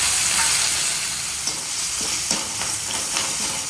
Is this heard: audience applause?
no